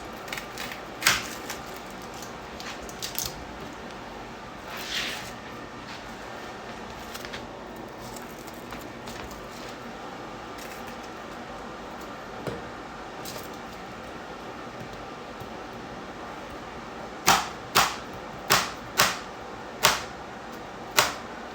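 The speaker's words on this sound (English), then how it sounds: "I'm gonna also cut up some onion." Knife chopping onion on a cutting board for a habanero pickle, scattered soft cuts at first, then a run of six sharp evenly spaced chops close by.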